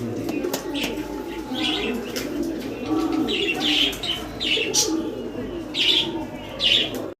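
High flyer pigeons coo in soft, low rolling phrases while wings flap in brief bursts and a few chirps come through, all close and fairly loud, with no talking.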